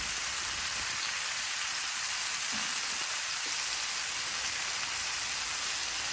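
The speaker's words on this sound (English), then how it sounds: "So now I'll get you back over here in the pot to see the onions and the mushrooms cooking." Onions and mushrooms cook in a pot for a surf and turf dinner, giving a steady, even sizzle close by with a faint clink partway through and no talking.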